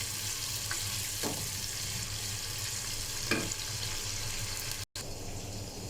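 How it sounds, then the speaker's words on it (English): Onions frying in a pot as the base for chicken pilau, a dense, steady sizzle with a few soft stirring knocks, close and constant throughout with no talking. "So I cook my onions until they are golden brown"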